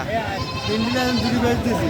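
A goat bleats in a drawn-out wavering cry at a goat market, with other bleats and crowd chatter around it.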